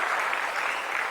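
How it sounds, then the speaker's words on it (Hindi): A crowd at a cooperative foundation day ceremony applauds loudly and steadily, a continuous wash of clapping with no voices over it. "इसके लिए आप सभी लोग ताली बजाओ जरा"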